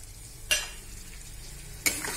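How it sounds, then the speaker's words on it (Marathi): Cut potato being stirred into a frying masala in a pan, with a soft continuous sizzle broken by two sharp scraping stirs of a spoon against the pan. "आता आपण जो 1 बटाटा कापला होता तो पण त्यात टाकूया आता"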